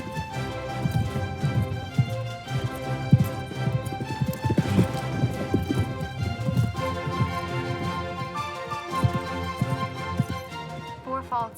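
Horse hooves clip-clopping over ground at a show jumping competition, a busy continuous rhythm of hoofbeats heard close and fairly loud with no talk over it.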